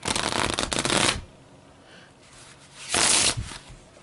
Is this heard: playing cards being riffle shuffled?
yes